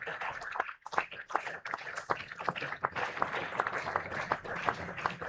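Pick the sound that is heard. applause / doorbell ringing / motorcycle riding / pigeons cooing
applause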